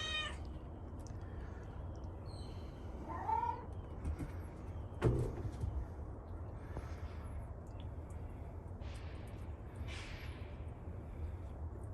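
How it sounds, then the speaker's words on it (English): A cat meows several times outdoors in a backyard, the calls fairly faint and spaced out over a steady low background hum, with no one talking. "I can hear her meowing all the way over at my yard, way over here from my back door"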